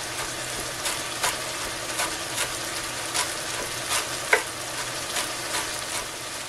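Pepper and smoked paprika mixture sautéing in a frying pan, a continuous crackling sizzle with soft periodic stirring scrapes and one sharper clink.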